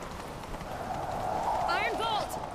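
Rapid hoofbeats of a galloping horse in The Witcher 3: Wild Hunt run steadily beneath game sound effects, with a short whistling, warbling tone near the end.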